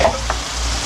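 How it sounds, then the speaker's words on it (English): Onions browning in a pan for chuckwagon baked beans give off a steady close sizzle, with a brief scrape of stirring near the start. "add in the onions. And we're just going to brown them a little bit."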